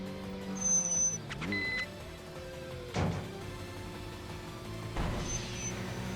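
Tokyo Xtreme Racer video game race, a naturally aspirated 86 against a turbo car: engine drones and shifting revs with sharp whooshes and a couple of bright transient hits, played alone without talk.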